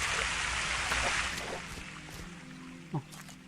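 Rushing waterfall in the video game Dead Bits, a broad steady wash of water noise that slowly eases, with a brief low blip near the end.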